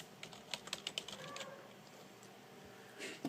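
Quiet, close tapping on a computer keyboard, a quick burst of keystrokes followed by a pause and a few final taps.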